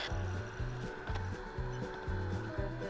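A woodturning lathe cuts an undercut on the foot of a wooden bowl: a steady close whirring rub with a pulsing, repeating low tone and a scraping texture from the tool on the spinning wood, with no talking.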